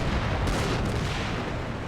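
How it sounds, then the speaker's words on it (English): 105mm artillery fire in the Combat Mission video game makes a dense, continuous rumbling roar of overlapping booms, loud and unbroken for the whole stretch. "they're heading straight into a 105mm artillery ambush"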